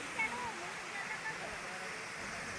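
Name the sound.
waterfall and river at Kuntala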